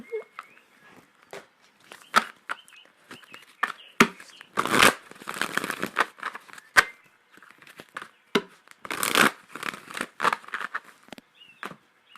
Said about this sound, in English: let's go ahead and pull some crystal cards